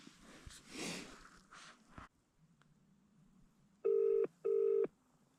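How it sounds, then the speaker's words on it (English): Two long electronic ringback tones sound in succession, clear and steady, after a stretch of quiet background murmur and a few faint clicks. "Calling Nikki V. Mobile"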